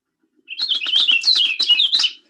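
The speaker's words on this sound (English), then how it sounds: "There's also an orchard oriole." An orchard oriole sings a rapid, jumbled warble of bright whistled notes and chatter, continuous for about two seconds, fairly close and with no voices.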